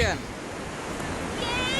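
Surf washing onto Pasir Putih beach, a steady broadband wash with a brighter surge near the end, with a voice briefly audible at the start.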